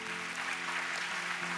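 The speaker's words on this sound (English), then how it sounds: "can we just give a round of applause for everybody who came home today?" A church congregation claps during a Youth Sunday service, a short burst of even, continuous applause with a faint electrical hum beneath.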